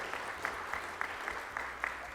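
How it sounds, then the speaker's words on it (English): A steady wash of clapping from a crowd at a national petroleum conference, with some louder individual claps popping out at a fairly regular pace, heard a bit distantly. "Give him a warm round of applause."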